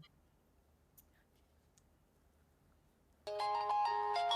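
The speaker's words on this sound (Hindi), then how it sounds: "किसका फोन है ये?" A mobile phone ringtone breaks a near-silent room about three seconds in, then plays loudly and steadily as a bright repeating melody.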